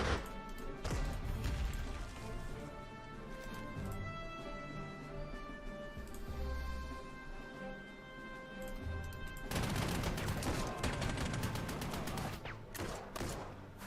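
Gunfire in the WWII strategy game Panzer Corps 2 as units attack heavy weapons: dense bursts and crashes, loud over a steady orchestral music bed, with a heavier barrage returning near the end.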